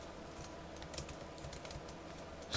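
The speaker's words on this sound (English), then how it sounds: "It's hard to type like this." Computer keyboard typing in a quiet room, a steady stream of soft, rapid key clicks with a few slightly louder strokes, close and continuous with no talking.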